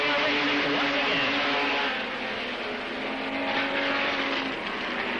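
Open-wheeled six-cylinder modified race cars roar together as the field takes the green flag at a 1990 short-track Sportsman feature, a dense, sustained engine drone with rising revs, steady and loud throughout.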